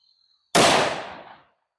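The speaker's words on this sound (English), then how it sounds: "I'm going to attempt to shoot" A single loud, close gunshot from a Ruger LC Carbine in 10mm fired into a ballistic gel block outdoors, a sharp blast that decays over about a second, with a faint steady tone beforehand.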